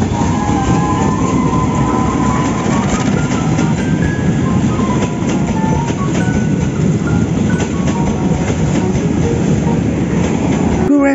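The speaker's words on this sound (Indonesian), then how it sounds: "Ada lokomotif Indonesia" A CC203 diesel locomotive of Indonesian railways rolls past with loud rumbling wheels, rhythmic clatter over rail joints and faint metallic squeal, sustained close by throughout before a sharp cut at the end.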